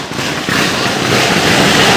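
A firecracker goes off at night, a loud, dense crackling burst that rushes on for about two seconds, close and continuous with no pause.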